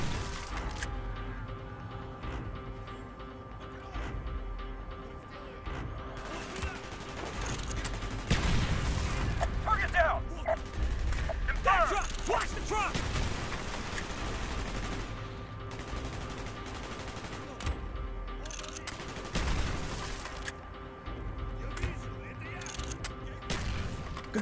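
Bursts of automatic gunfire and explosions from the Call of Duty Black Ops video game, dense and continuous over a rumbling battle backdrop, with some intermittent speech woven in.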